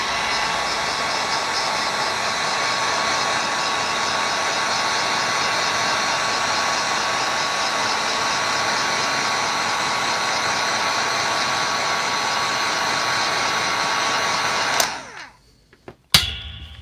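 A heat gun blows steadily while shrinking heat-shrink tubing, a loud continuous fan whir and hiss close by that cuts off near the end with a couple of clicks.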